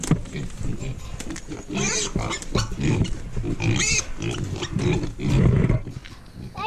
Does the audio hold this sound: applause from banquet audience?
no